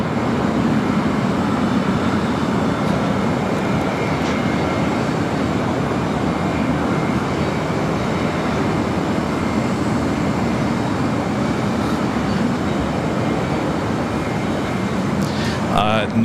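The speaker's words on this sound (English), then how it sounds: "Next takeoff is Air Canada Flight 778 heading to Montreal, Canada, 737 MAX 8" An Air Canada Boeing 737 MAX 8 taking off at LAX makes a loud, steady broadband jet roar that persists throughout, swelling slightly near the end.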